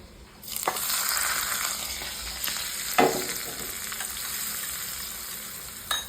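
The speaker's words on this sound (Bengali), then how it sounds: "একটা তরকা বানানো হচ্ছে তেল দিয়ে তেল তেল দিয়ে আর তিল দিয়ে" Dried chili flakes and sesame seeds tempering in hot oil give a steady, loud close-up sizzle, broken by a few brief stirring clatters, with no voices.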